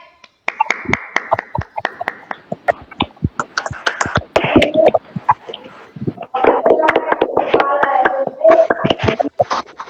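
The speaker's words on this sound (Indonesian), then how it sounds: "Kita beri tepuk tangan dulu untuk teman kita" Classroom applause for a student's finished official letter, a small group of hands clapping irregularly in bursts with sharp individual claps, close and fairly loud, with voices murmuring in between.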